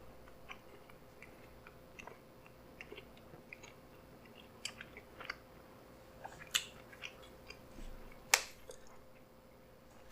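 Someone chews a big bite of Philly cheesesteak with quiet, irregular wet crunches and smacks close to the mic, with a couple of sharper crisp bites standing out. No one speaks.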